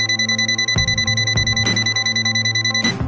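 A loud, continuous electronic beeping tone from an Aneng Q10 digital multimeter sounds up close, with a few brief clicks breaking through it.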